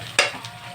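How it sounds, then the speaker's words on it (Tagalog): Onion and garlic sauté in a hot pan for pork Bicol Express, a soft sizzle with a quick scrape of stirring near the start. "Papulahin muna natin ng konti yung sibuyas at bawang."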